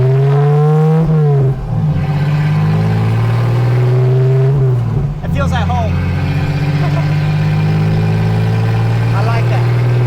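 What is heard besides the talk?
Toyota Cressida kaido racer car engine revving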